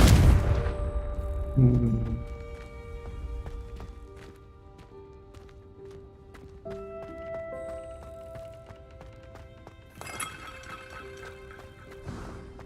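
The Confringo blasting spell goes off in a Hogwarts video game, a loud burst at the start followed by crashing impacts, a second blast near the middle and another near the end, over clinking game effects and chiming tones.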